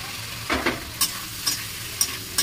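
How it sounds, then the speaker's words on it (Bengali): Pointed gourd and potato curry being stirred in a frying pan, with a soft steady sizzle broken by a few light scraping strokes of the spoon at a regular pace. "দেখুন বন্ধুরা সবজিটা এবারে নাড়িয়ে নেব।"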